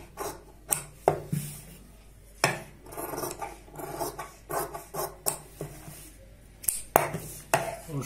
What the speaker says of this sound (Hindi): अब हम एक पैर का मार्जिन रखते हुए कटिंग कर लेते हैं इस तरीके से।